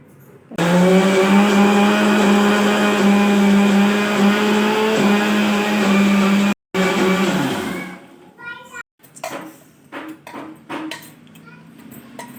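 A mixer grinder whirs loudly and steadily as it grinds jowar with green chilli, garlic and cumin, runs for about six seconds with a brief stop, then winds down as a voice talks.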